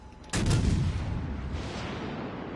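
Naval guns fire American shells in World of Warships Legends, a single loud, close boom that rolls into a long, decaying rumble with no talk over it.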